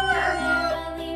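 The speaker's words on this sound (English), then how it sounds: "Chicken." A chicken or rooster call rings out alone, loud and near, a sustained harmonic crow that wavers and holds steady for about a second.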